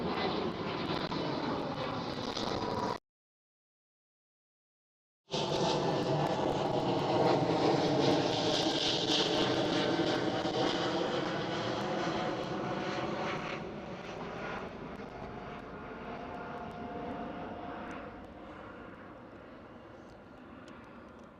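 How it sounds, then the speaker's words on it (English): A KLM Cityhopper Embraer E195-E2 jet roars loudly and steadily at an airport, its engine tone sweeping and slowly fading as it passes, with one brief dropout early on. "the KLM City Hopper E195 E2"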